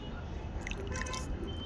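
Water poured onto a surface with soft splashing and scattered drips, quiet and steady under a low background hiss for under two seconds.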